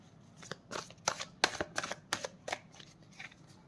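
Tarot cards handled and shuffled in quiet indoor surroundings, with a run of short crisp riffling and slapping bursts, moderately close and fairly soft, and no talk.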